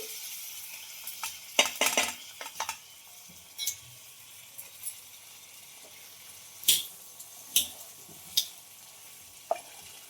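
Washed whole eggplants dropped into a hot pan of masala: scattered sizzles and sharp crackling pops, a cluster early then isolated bursts, fairly faint and close with no talk.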